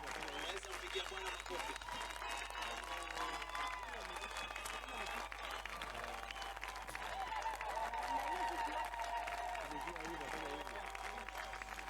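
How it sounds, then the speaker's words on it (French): A crowd claps at a large open-air religious gathering in Central Park, Nairobi, a dense rustle of applause under loud music and voices. "Pouvons-nous applaudir au Seigneur?"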